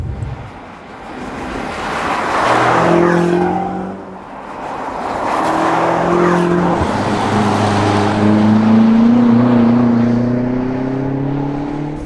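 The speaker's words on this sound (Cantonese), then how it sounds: "喺呢個賽車場揸新嘅 M5 咧，揸咗6個圈" A new BMW M5 with 600 horsepower and four-wheel drive laps a race track, its engine loud and close as it revs hard, shifts up through the gears and surges in pitch, dipping briefly between pulls.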